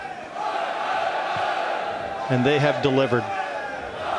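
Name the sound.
home crowd cheering at the Mosconi Cup pool match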